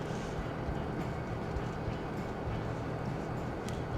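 A freight train in the Farming Simulator 2017 video game rumbles and clatters steadily, a loud, continuous mechanical roar of rolling wagons heard from outside the cab.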